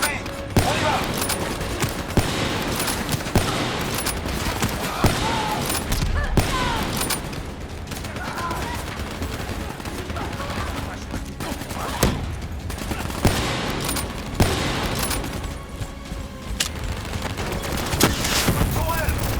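Turret gunfire in the Call of Duty Black Ops 3 campaign, a dense sustained fusillade of shots and explosions throughout, with shouted game voices over it.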